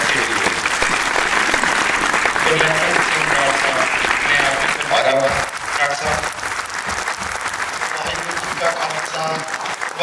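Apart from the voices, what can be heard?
loud applause for performers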